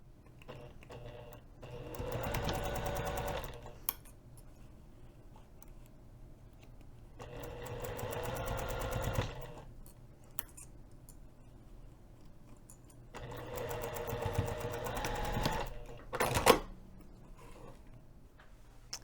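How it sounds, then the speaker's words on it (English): Sewing machine stitching a hinged zipper pocket seam at a quarter-inch allowance, running in three separate bursts of rapid rhythmic clatter with quiet pauses between, close by and without talk. "we're going to sew this edge, again using 1/4 inch seam allowance"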